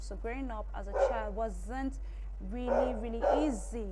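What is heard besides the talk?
dog barking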